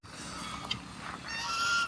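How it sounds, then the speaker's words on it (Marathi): Goose-like honking calls from birds outdoors, a couple of faint nasal honks over a soft background hiss, growing slightly louder toward the end. "बाहेर जाता जाता मला हे पक्षी दिसली म्हणताना तुम्हाला यांचा व्हिडिओ दाखवतो"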